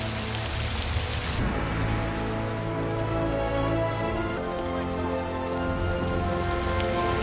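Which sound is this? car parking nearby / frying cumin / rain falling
rain falling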